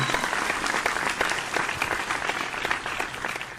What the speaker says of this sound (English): Ladies and gentlemen, another big round of applause for Christopher Sam.